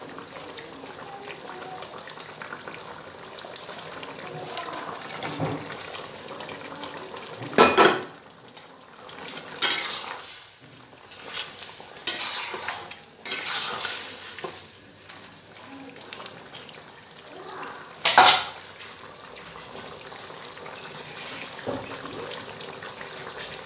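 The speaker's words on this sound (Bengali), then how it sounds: "ঝোলটা ফুটে গেছে। এখন আমি মাছগুলো দিয়ে দেব।" Koi fish added to a boiling cauliflower and potato broth: a low, steady bubbling simmer with a few sharp splashes and pan clinks scattered through, under faint background voices.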